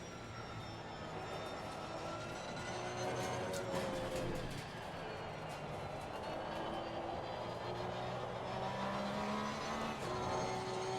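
Race car engine in the sim racing game Assetto Corsa Competizione, a continuous droning whine rising and falling through gear shifts, steady and moderately loud throughout.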